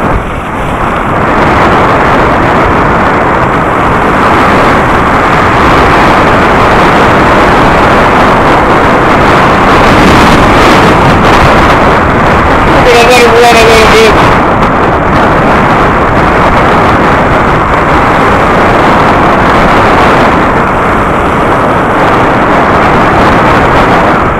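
A cruiser motorcycle rides on a mountain road at 10,000 feet, its engine buried under loud, constant wind roar that stays steady from start to finish, with a faint whistling tone briefly midway.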